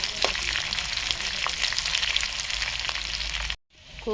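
Oil sizzles and crackles steadily as mustard seeds, crushed garlic, onion and curry leaves fry in a pan, a dense close hiss with occasional pops, ending in a brief cut.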